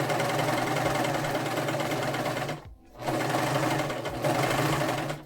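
A sewing machine stitches fabric for a skirt in a loud, steady mechanical whir, pausing briefly for about a second before running on again at a constant pace.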